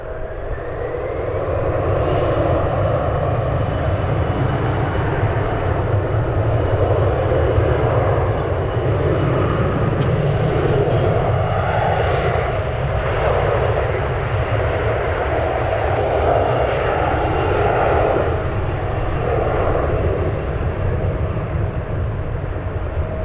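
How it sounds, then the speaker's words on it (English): An Embraer E175 jet takes off at San Francisco airport with a loud, continuous engine roar that holds steady throughout. Faint higher tones sit over the rumble. "A little E175 taking off."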